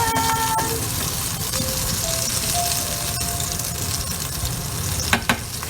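Red kidney bean kebabs shallow frying in oil hiss with a steady, continuous sizzle, close and fairly loud, and a few faint clinks near the end.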